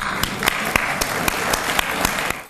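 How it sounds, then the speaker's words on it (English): An audience at an awards ceremony for Armenian lawyers breaks into sustained applause, dense steady clapping with a few louder claps standing out, filling the room for a couple of seconds before fading at the end. "So tonight, let's applaud you."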